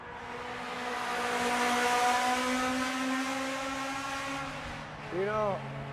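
A Corvette and other race cars at a Gridlife track meet at Mid-Ohio roar past loudly, one engine note rising and then fading with a Doppler drop near the end, heard from trackside.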